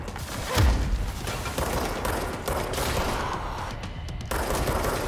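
Gunfire in the video game Control comes as a sustained, dense rattle of shots with a heavy thump near the start, continuous and loud across the whole stretch.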